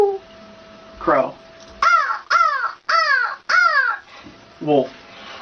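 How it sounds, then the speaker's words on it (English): A crow caws loudly and close by: a quick series of about six harsh, rasping calls, each one clipped and separated by short gaps. "Crow."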